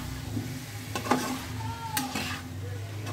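Malabar spinach stems and potato are stirred into a fried spice paste in a pan, giving a low sizzle with a few scraping, clattering strokes of the utensil.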